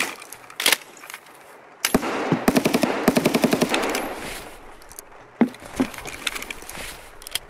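Gunfire in Escape from Tarkov, a rapid automatic burst of close, loud shots followed by scattered single cracks and metallic clicks, with no talk.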